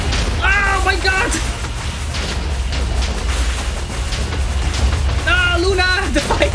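Withers' attacks blowing up an arena in Minecraft, a continuous rumble of booms and explosions under frequent game noises, loud and sustained.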